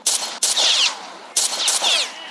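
Two bursts of rapid video game gunfire, each loud and sharp, with a brief gap between volleys and no talk.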